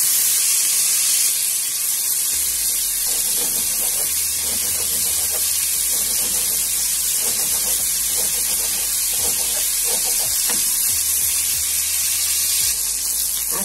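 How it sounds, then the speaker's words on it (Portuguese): Fat trimmed from dried salted beef (carne seca) fries in a pan, giving a steady, close hissing sizzle with crackly spits that runs unbroken for the whole stretch, with no talking. "Sempre fritar um pouquinho a gordurinha da carne seca"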